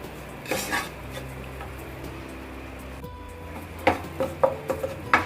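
Maida flour roasting in oil in a pan for white sauce, with a quiet low sizzle and a run of clattering metal spoon scrapes and knocks against the pan toward the end.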